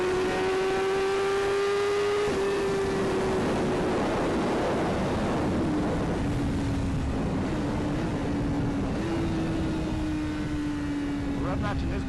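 A BMW S1000RR Gen2 engine drones at speed, with rising and falling pitch and sharp blips as it rev-matches downshifts, while a rider talks over the steady wind and engine noise.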